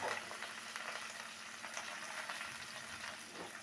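Spices spluttering in hot oil in a pan for an ennai kathirikai kurma, a dense, continuous fizz and crackle at low level, no talk.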